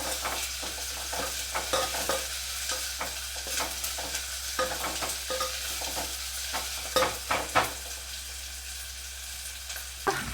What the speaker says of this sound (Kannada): ಇವಾಗ ಈರುಳ್ಳಿ ಫ್ರೈ ಆಗಿದೆ.